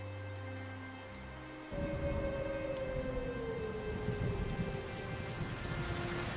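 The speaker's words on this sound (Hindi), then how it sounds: "बारिश तो और भी तेज होती जा रही है।" Heavy rain pours in a dense, steady hiss that swells suddenly louder partway through and then holds, with a low rumble beneath and no voices.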